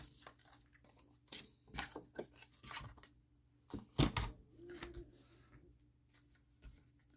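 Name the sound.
cutting card for floating easel cards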